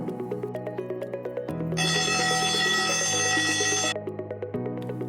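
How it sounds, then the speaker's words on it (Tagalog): A fire alarm bell rings continuously, shifting into a louder, harsher electronic ringing midway before dropping back to the steady bell tone. "Pinduta ang fire alarm."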